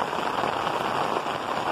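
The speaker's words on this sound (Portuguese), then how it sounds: "Nesse momento aqui, chuva em São José do Belmonte." Steady rain falling in São José do Belmonte, a dense, even hiss of drops on surfaces that holds without pause throughout, close and moderately loud with no voices.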